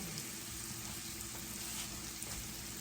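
Mushrooms frying in a pan, a steady soft sizzle with faint crackle, continuous and fairly quiet.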